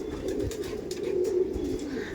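A flock of Madrasi pigeons, a Chennai breed, murmurs in a dense, throaty cooing drone that swells slightly midway, close at hand and free of talk.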